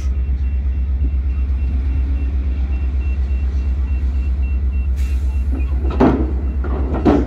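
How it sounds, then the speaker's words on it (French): A small truck arriving to pick up a trailer, its engine a steady low diesel rumble that stays heavy throughout, with a few knocks and clanks near the end. "là il y a un petit camion qui vient chercher juste une remorque"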